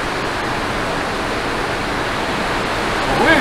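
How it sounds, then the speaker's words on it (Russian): Water falling somewhere deep inside a cave in the Rhodope Mountains, a steady broad rushing hiss that fills the space, even and continuous, with a brief rise near the end. "там в глубине тоже падает вода."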